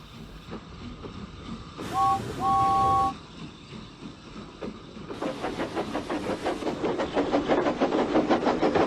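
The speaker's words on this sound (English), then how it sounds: "the only things that keep him company are the sounds of engines and freight coming and going as they please" A locomotive whistle toots twice over rumbling rail noise, then the rhythmic clatter of freight wagons rolling along the track builds and grows louder near the end, with no talk.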